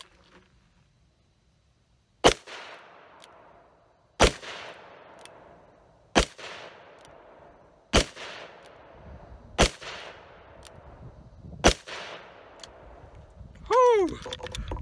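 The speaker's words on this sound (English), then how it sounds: "All right, guys, 6 more shots at 357 Magnum." Six sharp .357 Magnum pistol shots strike a body armor plate in an outdoor torture test, spaced roughly two seconds apart, each a loud crack with a ringing metallic tail, followed by a brief exhale.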